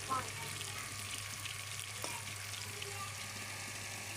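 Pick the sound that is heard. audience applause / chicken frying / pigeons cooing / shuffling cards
chicken frying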